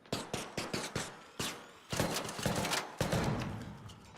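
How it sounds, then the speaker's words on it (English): Gunfire in the video game ARC Raiders, a rapid string of sharp shots followed by heavier sustained bursts, fairly close and loud with no talking over it. "Man, I thought somebody was shooting at us."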